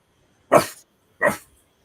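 A person imitates a dog with two short, gruff barks about half a second apart, loud and close, with silence around them.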